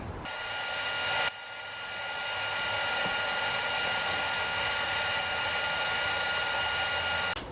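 Heat gun blowing on an old, hardened hose on a 1997–2001 Toyota Camry 2.2L engine, a loud steady whooshing roar that cuts out briefly near the start, then runs continuously close up with no talk.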